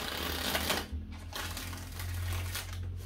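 Tarot cards being shuffled by hand, a close, quiet crisp riffling and flicking in a few short bursts with brief pauses between them.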